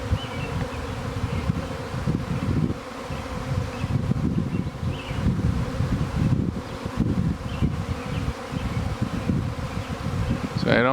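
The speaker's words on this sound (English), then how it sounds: "Hard to see them, but there's lots of bees in the air." A swarm of bees flies through the air outdoors, making a dense, steady buzzing drone that holds throughout with slight swells as individual insects pass close, over faint wind.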